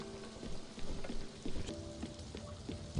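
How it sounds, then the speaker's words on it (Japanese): Steady rain falls in the video game Spiritfarer, a continuous dense hiss of drops with a faint rumble beneath, heard alone without voices. "雨が降ってきました。"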